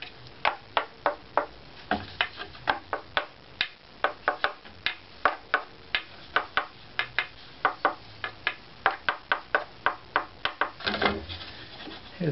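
A violin bass bar being tapped to test its tap tone during shaping, giving a series of sharp, dry wooden knocks at an irregular, fairly quick pace, close up with no talking.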